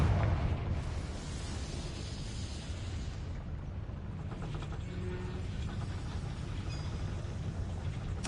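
Confringo fire spell explosion in Hogwarts Legacy: a sharp blast at the start, followed by a rumbling, crackling tail and scattered mechanical clatter at moderate volume.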